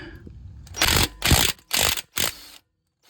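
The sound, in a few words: wrench removing a bolt while replacing Acura MDX brake pads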